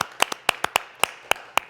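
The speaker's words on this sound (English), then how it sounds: "Let's give everybody who gave a big round of applause." Scattered hand claps at a virtual patron fundraiser celebrating the Chattahoochee, about nine sharp, separate claps in under two seconds, close and crisp rather than a full crowd's applause.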